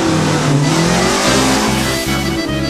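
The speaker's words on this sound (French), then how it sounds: "La numéro 7, Monsieur Michel Valois, Renault Dauphine de 1963" A 1963 Renault Dauphine on a historic hillclimb course, its engine revving hard and steadily under load, close and loud, with a faint tire squeal in the mix.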